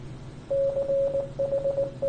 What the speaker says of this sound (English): Another Morse code.